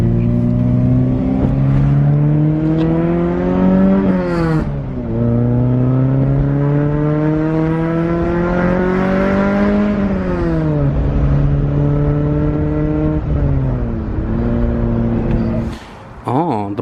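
K-swapped Honda CR-V engine revving loudly in repeated climbing pulls, each rise of the exhaust note followed by a drop as the throttle lifts, close and dominant with brief voices around it.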